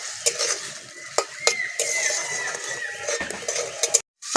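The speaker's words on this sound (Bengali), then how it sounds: "চিংড়ি মাছটা হালকা করে ভেজে নেব।" Shrimp seasoned with salt and turmeric fry in oil in a kadai. A steady close sizzle runs under sharp intermittent clanks and scrapes of a utensil stirring against the pan.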